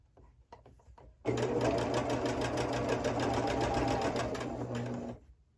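A sewing machine stitches sashing onto garden fence quilt blocks with a quarter-inch seam, starting after a few soft clicks and running as a loud, fast, even buzz for about four seconds before stopping.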